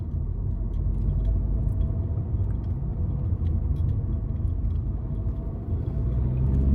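A Fiat Egea Cross 1.6 130 hp manual car drives along a road, producing a steady low engine and road rumble that stays even throughout, with no talk heard.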